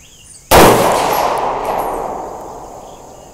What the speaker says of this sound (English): let's see how this shoots with the brake on it.